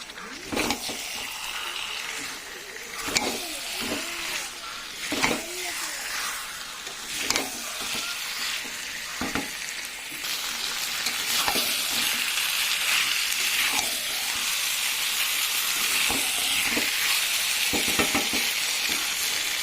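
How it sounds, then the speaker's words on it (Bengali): Meat with potatoes, salt and turmeric sizzles and fries in a pan, with steady close hissing and repeated scraping stir strokes throughout, the sizzle growing denser toward the end. "আমি গ্যাসের জোরটা কমিয়ে দিয়ে ঢেকে দিয়ে ভালো করে কষিয়ে নেবো।"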